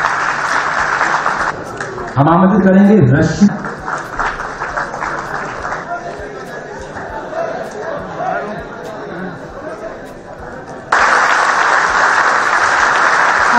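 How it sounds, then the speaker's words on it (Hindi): A ceremony audience applauds a bronze medal winner with loud, dense clapping at the start and again at the end, while someone speaks over a quieter middle stretch. "एक बार फिर से तालियां होनी चाहिए।"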